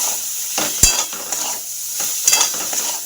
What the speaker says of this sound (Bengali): বাঁধাকপির আলু কষা চলছে